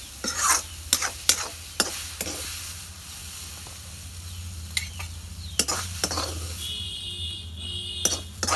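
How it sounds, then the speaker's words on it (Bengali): Kumir greens are being fried in a pan, with a steady low sizzle under sharp, close clicks and scrapes of a spatula stirring against the metal, coming in irregular strokes throughout. "শাক ভাজা হয়ে গেছে, এখন আমি নামিয়ে নেব"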